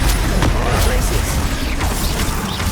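Glacius ice spell cast during Hogwarts Legacy combat, a loud, dense wash of cracking, creaking and booming effects that persists without pause across the whole stretch.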